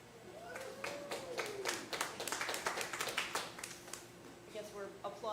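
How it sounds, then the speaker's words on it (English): A comedy show audience in St. Louis breaks into scattered clapping that builds into a few seconds of quiet, distant applause, with a voice briefly audible underneath. "I guess we're applauding now"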